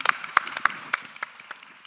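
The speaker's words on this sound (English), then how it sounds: "Give this one a round of applause" A small audience at a talk on building diverse and inclusive communities claps briefly. The claps are sparse and distinct, coming in an uneven rhythm from just a few hands, and they taper off quickly.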